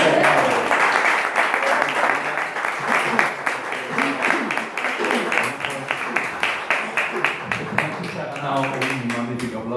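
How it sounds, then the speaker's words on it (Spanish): An audience at a Spanish poetry gathering in Seville applauds after a recited poem, a crisp, rhythmic round of clapping that stays fairly steady, with a voice starting to speak over it near the close. "Un magnífico aplauso."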